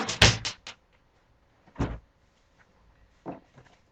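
Drawer opening and closing during a search for stencils, with a rattling slide, a clunk and a later softer bump, close by with quiet pauses between.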